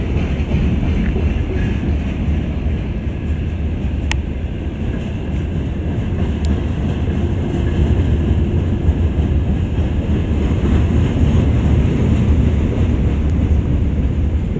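The Moscow–Ulan-Ude passenger train stands at a station, giving a loud, steady low rumble with wind buffeting the microphone and two brief faint clicks.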